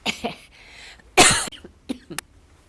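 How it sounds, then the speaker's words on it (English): A single harsh cough bursts out loudly after a brief breathy sound, followed by a couple of small throat noises and quiet breaths. "have to cough"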